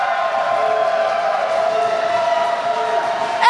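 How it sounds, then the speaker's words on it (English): Fans cheer for the Fight Crew at a 2019 LA Derby Dolls roller derby playoff bout, a steady roar of crowd noise that swells slightly near the end. "Those Fight Crew fans were so excited, I think they cheered for both teams."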